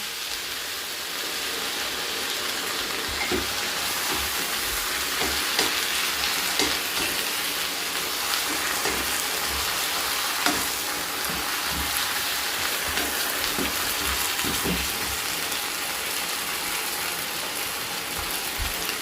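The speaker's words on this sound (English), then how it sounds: "Gonna add 400 ml coconut milk in." Coconut milk simmering and sizzling in a pot of vegetable stew, a steady dense hiss with faint crackles and small pops running throughout at an even level, close by.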